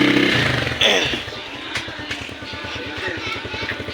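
A motorcycle engine runs steadily at idle with rapid, even pulsing after a loose, rattling brake rubber damper was fixed, close by and fairly loud, with a brief burst of voices and shop noise near the start.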